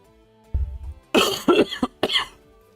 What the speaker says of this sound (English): Wow, there's a cough that just won't go away.